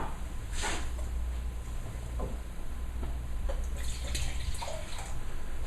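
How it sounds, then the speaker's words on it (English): A quick water rinse of a wine glass with steady running-water hiss and a few splashes and drips. It is close and moderately loud, and no one speaks. "Let's do a little quick rinse here."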